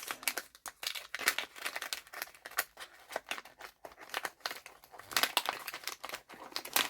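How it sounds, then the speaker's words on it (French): A taped vellum envelope being torn open and handled up close, a rapid series of crinkling, crackling rips and rustles that runs continuously and grows a little louder near the end, with no voice. "Oui, bah je déchire, écoutez"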